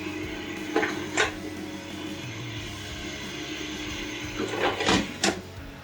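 Pita chips are tossed inside a container, producing a few brief clattering rattles, one pair early and a cluster later, against a low steady background hum.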